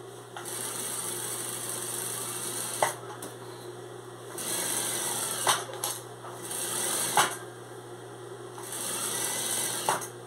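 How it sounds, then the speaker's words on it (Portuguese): Domestic sewing machine stitching a small cloth piece at close range, running in steady whirring bursts of a few seconds each with short pauses and clicks between, loud and alone with no talk. "Agora eu vou dar essa costurinha aqui, ó."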